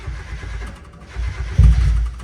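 A Mazda Miata engine being fitted with a turbo cranks and tries to start, a low rumbling churn that surges into a brief louder catch near the end.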